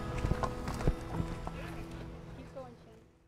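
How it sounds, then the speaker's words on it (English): A horse led on foot toward a stall, hooves clip-clopping in irregular steps close by, with a person talking over the first part before the sound fades out. "Let's go put this horse in a stall."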